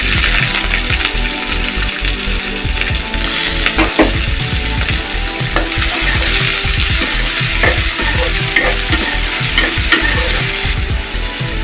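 Chopped onion and prawns fry loudly in a pan, a busy crackling sizzle broken by repeated scraping and stirring strokes from a spatula, close and continuous with no talk.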